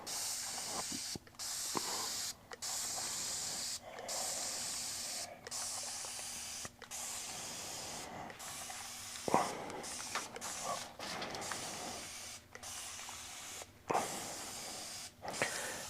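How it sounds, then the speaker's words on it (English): Spray bottle misting isopropyl alcohol over a model ground-cover surface, a series of close hissing bursts at a steady rhythm, each a second or two long, with a sprayer that keeps spraying after the trigger is released. "this sprayer doesn't stop spraying when you let go"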